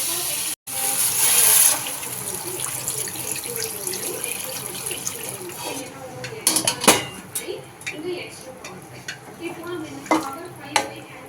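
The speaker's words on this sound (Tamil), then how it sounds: "இப்போ தாராளமாக தண்ணி சேர்த்து நல்லா கொதிக்க விடணும்." Water is added to a pot of Tamil-style chicken kulambu, a brief gush of pouring followed by clinks of a metal pot and utensil stirring, with a voice speaking intermittently over it.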